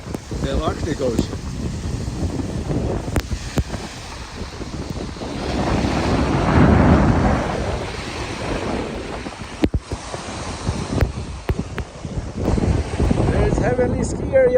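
Storm wind sweeps a snowy Lake Tahoe beach at Nevada Beach, a loud, continuous roar of gusts and microphone buffeting that surges to a peak midway, with wave wash mixed underneath.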